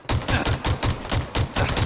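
Rapid automatic gunfire in Halo Infinite multiplayer on the Bazaar map, a steady loud burst of about a dozen evenly spaced close shots with no voices over it.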